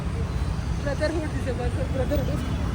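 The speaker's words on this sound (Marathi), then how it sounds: "खूप ट्रॅफिक झाले गाईज, खूप ट्रॅफिक झाले." Heavy road traffic makes a steady low rumble of passing vehicles close by, with people talking over it throughout.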